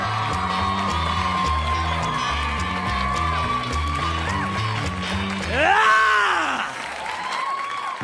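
A stand-up comedy crowd cheers and whoops loudly, with applause and a swelling burst of shouts near the end while a voice speaks over the noise.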